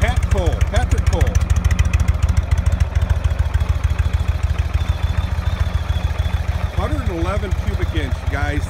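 A 2020 Indian Springfield motorcycle idles with a steady, low, loping thump close by while people talk over it.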